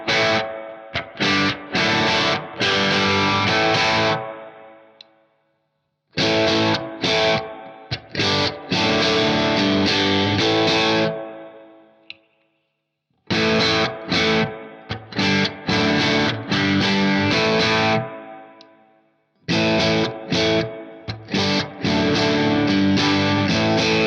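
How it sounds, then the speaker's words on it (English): An Aria Pro II 615-MK2 electric guitar played through crunch distortion, loud chordal phrases in four bursts with brief silent gaps between them. "let's do another tour with a little bit of distortion"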